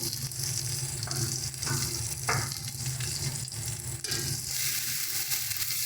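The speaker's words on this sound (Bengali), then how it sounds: "এবার সমস্ত মশলাগুলোকে খুব ভালোভাবে কষিয়ে দেবো।" Ground spices, chili, cumin and a little coriander, sizzle and fry steadily in a pan for a taro and prawn curry, a dense, continuous hiss with soft stirring, close and alone without voices.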